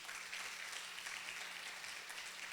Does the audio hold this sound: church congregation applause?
yes